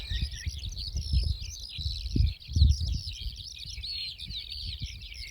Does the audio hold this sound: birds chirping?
yes